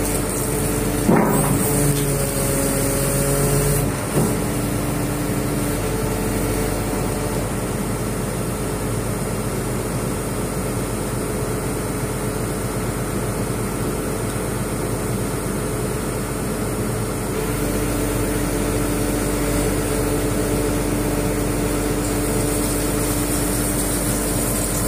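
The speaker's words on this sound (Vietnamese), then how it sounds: "Rất chắc chắn, tiếng nổ động cơ rất ấm," Hidromek 390 H4 excavator diesel engine idles steadily outdoors on a rainy, windy day, a constant low hum with a brief knock near the start.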